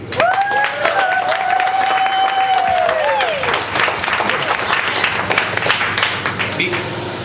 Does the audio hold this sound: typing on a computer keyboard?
no